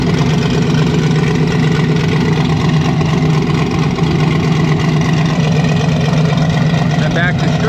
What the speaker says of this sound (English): Sounds pretty decent with that new MagnaFlow muffler on there, the X muffler